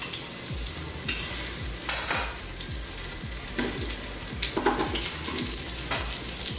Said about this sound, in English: We're frying up our onion and our ginger here